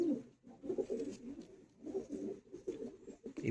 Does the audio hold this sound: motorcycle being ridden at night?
no